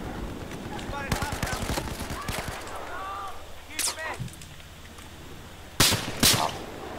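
Sniper fire in a Conquest Large match on Hainan Resort cracks as several sharp, spaced shots and bursts, some near and loud, others fainter, while players talk between them.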